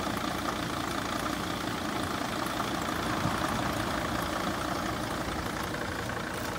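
A 2006 Mercedes Sprinter van with a failing fan clutch bearing runs at low speed, producing a steady, close engine drone with faint rattling texture, constant in level throughout.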